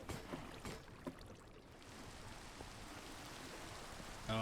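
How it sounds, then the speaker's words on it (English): Minecraft rain falls in a steady soft patter with a few sharper drop-like ticks early on, quiet and continuous, before a brief tonal game sound cuts in at the end. "Oh, it's raining and it's nighttime."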